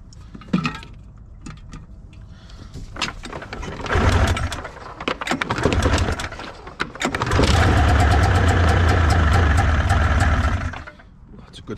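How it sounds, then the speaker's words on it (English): A rusty 1988 Arctic Cat Cougar 500 F/C snowmobile with no belt is pull-started, with rattling cord pulls, a brief sputtering catch, then the engine firing and running loudly and steadily close by. "let's give it a pull and see if there's enough fuel in there to get it fired up"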